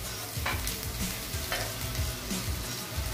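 Onion and garlic sizzle in hot oil while being stirred and sautéed until golden brown, a steady close frying hiss broken by repeated scraping stirs, with no talking.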